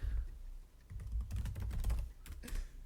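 Typing on a computer keyboard during a podcast recording, with bursts of rapid, close key clacks over a low background rumble and no speech.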